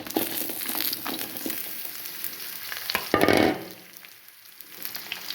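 Vegetable pieces for a methi-flavoured mukkala pulusu dropped into hot oil, a close sizzle with stirring scrapes and a loud burst of frying partway through that settles into a quieter crackle.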